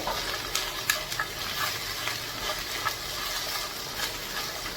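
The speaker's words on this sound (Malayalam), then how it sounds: "പച്ചമുളക്, വെളുത്തുള്ളി നന്നായിട്ട് ഇളക്കി കൊടുക്കുക." Green chilies, garlic and ginger stirred and fried in a pan for a Kerala buttermilk curry, a steady close sizzle with soft rhythmic scraping of the spoon; no talking.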